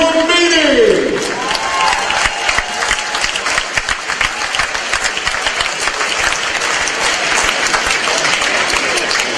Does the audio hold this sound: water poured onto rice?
no